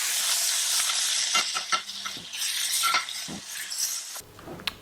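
Food sears in a hot pan, a dense, steady sizzle close by, punctuated by brief scraping and clinking knocks, then the hiss drops away abruptly near the end.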